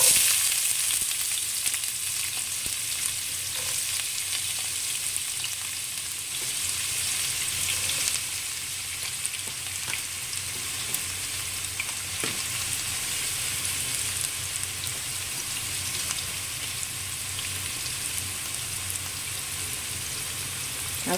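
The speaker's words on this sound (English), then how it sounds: "so I'm going to throw in the onions right now." Onions tossed into hot oil for tofu sambal fry in a loud, steady sizzle with a bright hissing crackle that carries on without a break, close to the pan.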